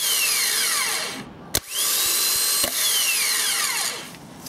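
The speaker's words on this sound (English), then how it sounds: "when we pull in that solenoid, the motor starts turning." A VW AHU TDI starter motor bench-tested through its solenoid whines loudly as it spins up and winds down in repeated runs, with sharp clicks from the solenoid pulling in between bursts.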